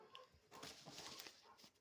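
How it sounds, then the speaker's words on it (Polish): Dogs bark and whimper faintly, sounding somewhat distant in a quiet indoor setting. "Psy szczekają"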